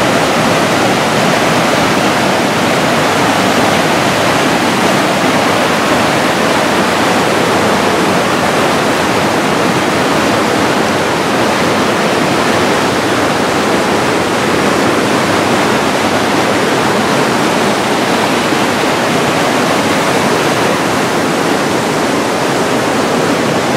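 Loud, dense rush of a river flowing steadily, a broad unbroken roar of water that fills the whole stretch without pause and with no voices.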